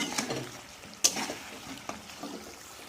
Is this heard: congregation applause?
no